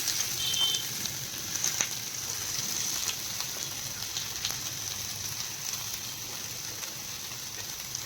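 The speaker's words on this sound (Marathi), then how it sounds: "चला तर आता मी त्याच पॅनमध्ये टाकते कांदा, हा टोमॅटो" Onion and tomato frying in a pan for misal, a soft, even sizzle and crackle held at low volume throughout, with no voices.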